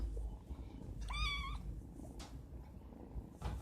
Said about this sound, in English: He was a cute little kitten, and then he just lays in my lap like nothing.